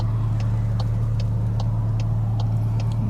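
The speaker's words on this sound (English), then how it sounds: "this will give you guys a good idea of how this exhaust sounds with the windows up" An MK8 VW GTI fitted with a Milltek race exhaust drones as a steady low hum from inside the cabin with the windows up, with faint regular ticking above it and no talking.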